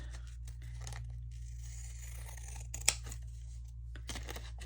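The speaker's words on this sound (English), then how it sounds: "what if I use my pinking shears" Pinking shears snipping through paper-like material, a series of short, crisp cuts and crinkles close up, fairly quiet over a low steady hum, with one sharper snip midway.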